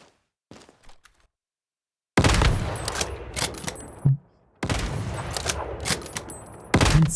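Bursts of loud rapid gunfire in the Once Human video game, with two extended volleys of crackling shots and a thud between them, after a quiet opening.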